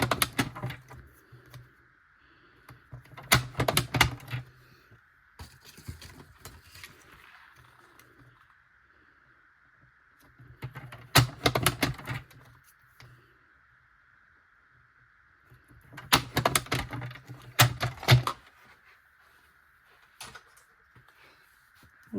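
Cardstock strips, 9 cm by 1 cm, are scored with fold lines 1 cm from each end for a pop-up paper card. Three separate bursts of scraping and rubbing stand out against a quiet room with a faint steady background tone.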